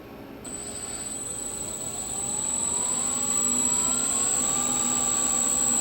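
A Sieg mini lathe motor in low gear whirs steadily, a high whine holding over a broad hum that grows louder and climbs slowly in pitch as it spins up, with no talking.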